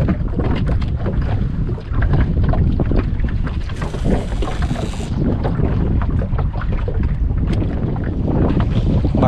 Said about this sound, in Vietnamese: Bắt đầu sóng gió nó nổi lên nhiều rồi nha.